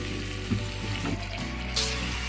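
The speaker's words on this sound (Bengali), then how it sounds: "মশলাটা ভালোভাবে কষানো হয়ে গেছে, তারপরে দিয়ে দিয়েছি মাছটা দিয়ে একটু মানে কষিয়ে নিতে হবে" Fish frying in a pan of well-cooked spiced masala, giving a steady close sizzle with a few brief clatters of stirring, no talk.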